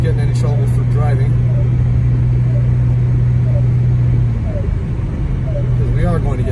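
A car drives at night through snow in Big Bear, its steady engine drone and road rumble filling the cabin at a constant level, with a low hum that eases slightly near the end.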